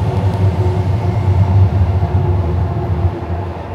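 A Hayabusa shinkansen bullet train bound for Morioka passes in the Tokyo area, heard as a loud, steady low rumble and roar that continues throughout without fading.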